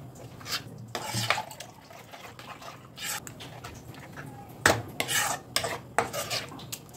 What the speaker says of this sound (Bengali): আর টক দই দেওয়ার সঙ্গে সঙ্গে যেটা করতে হয়, নাড়তে থাকতে হয়